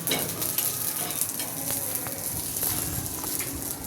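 Green chillies roasting on a hot griddle after bhakri flatbread is cooked, a soft steady sizzle and crackle with faint scraping touches, close and continuous.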